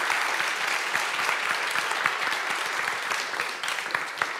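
A student audience gives sustained, lively applause at the close of a Nobel Prize talk concert. The clapping is dense and steady, with a few sharper individual claps standing out.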